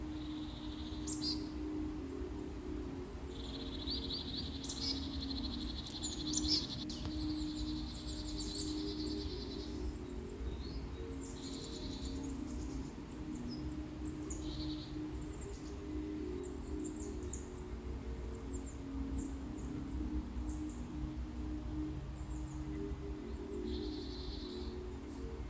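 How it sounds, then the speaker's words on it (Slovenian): Birdsong outdoors, with repeated chirps and short whistled phrases from several birds at a moderate distance over a constant low ambient hum, continuing without talk throughout. "In sedaj se prepusti zvoku, energiji ptic,"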